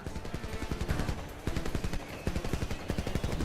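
Rapid machine gun fire from the video game Homefront, dense bursts of sharp shots rattling almost continuously with brief gaps, loud and close.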